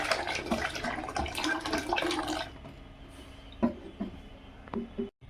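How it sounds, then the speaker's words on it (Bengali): Water poured into a pot of cooked dal makes a splashing gush for the first couple of seconds, then gives way to quieter drips and a few light knocks. "এই ডালের মধ্যে আমি এই যে জল দিয়ে দিচ্ছি"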